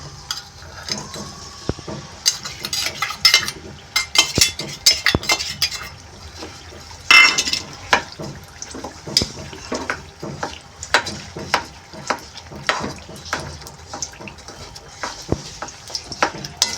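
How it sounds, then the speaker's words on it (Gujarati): Jaggery melts in ghee in a pan while a spoon stirs it, giving irregular scraping clinks and soft sizzling bursts over a quiet kitchen background, with no speech. "ઘીમાં ગોળને આ રીતે ગરમ કરવાનો છે."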